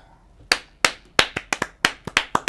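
About a dozen distinct hand claps at an uneven pace, fairly close and sharp, with no voices over them, given as a small round of applause during a live shopping broadcast for an LG Household & Health Care antiviral laundry detergent.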